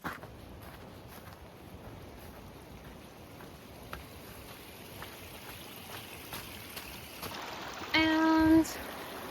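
A calm river at a crossing on the Cape Wrath Trail in the Scottish hills gives a steady, soft rush of flowing water, with a brief louder tonal sound near the end.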